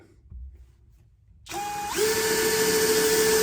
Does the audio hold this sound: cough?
no